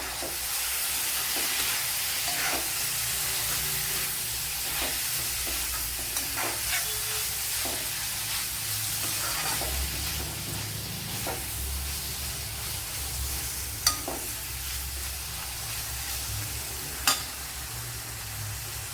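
Chopped tomato frying in a pan for a quail egg curry, a steady close sizzle and hiss running throughout with occasional scrapes and stirring taps, no talking.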